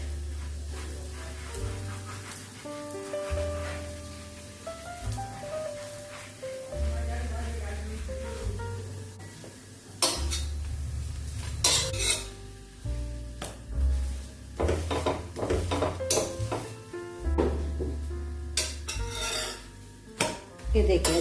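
Poha thalipeeth roasting on an oiled pan and being flipped, with repeated metallic clinks and scrapes of a spatula against the pan over a faint sizzle, close by, with a voice talking at times between the utensil knocks.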